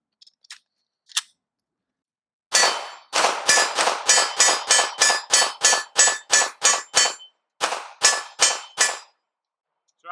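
Steel target clangs ring out from pistol rounds fired with a Canik TP9SF: a couple of isolated hits, then a rapid string of about fifteen sharp metallic pings, a short pause and three more.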